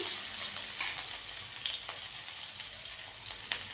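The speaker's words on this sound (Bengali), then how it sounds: "প্রথমে দিচ্ছি রসুন কুচি" Chopped garlic fries in a shallow layer of oil for Schezwan chicken, giving a steady, close, crackling sizzle with sharp pops, and no one speaks.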